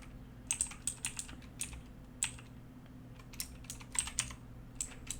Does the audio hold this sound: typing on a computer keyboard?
yes